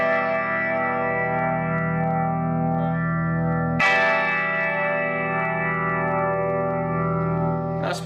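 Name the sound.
guitar through One Control Lemon Yellow compressor pedal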